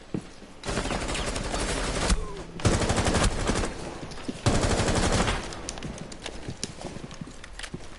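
Bursts of automatic gunfire from Zofia's rifle in a shooter video game, loud and close, coming in three sustained volleys of rapid shots separated by brief gaps, with scattered softer game sounds between them.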